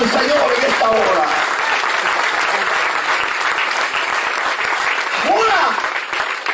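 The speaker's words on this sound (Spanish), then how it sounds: "Dale fuerte ese aplauso al Señor en esta hora." A church congregation applauds loudly and steadily during a worship service, dense clapping filling the room throughout, with some cheering voices rising over it.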